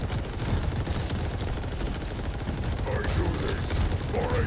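Continuous rapid gunfire from the trash cannon in Halo Infinite, a dense, steady barrage of overlapping shots with game noise underneath throughout.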